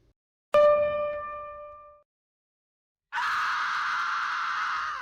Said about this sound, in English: A scream of absolute terror.